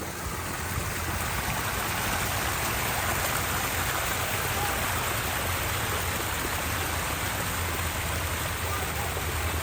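A waterfall in Helen, Georgia rushes with a constant broadband roar of falling water, loud and unbroken throughout, with no voices on top.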